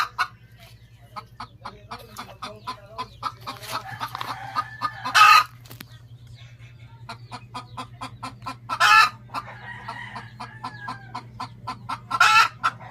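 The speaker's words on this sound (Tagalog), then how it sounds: "Kaingay ng manok." Chickens cluck in a busy, rapid patter while a rooster crows loudly three times, each crow standing out above the steady clucking and a low constant hum.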